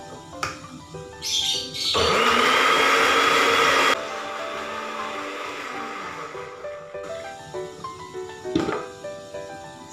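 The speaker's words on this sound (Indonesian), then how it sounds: "Setelah kita blender daun pandan" A blender blending pandan leaves with water whirs loudly for a couple of seconds, then drops to a steadier, lower churning hum, with clinks and clatter around it.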